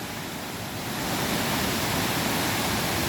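A waterfall in the mountains of Chiang Mai, Thailand, pours in a steady, loud roar of rushing water with wind, swelling slightly after the first second and holding constant, with no voices.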